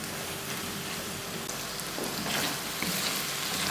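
Potato and egg bhujia sizzles steadily in a pan, a dense continuous fry hiss with a few soft stirring scrapes, fairly close and alone without talk.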